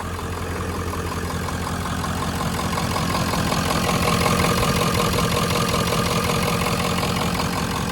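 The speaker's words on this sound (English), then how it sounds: "Diesel noises." A 1996 Ford F250 with a 7.3 diesel idling close by, a steady loud clattering rumble with rhythmic knock, alone with no talking.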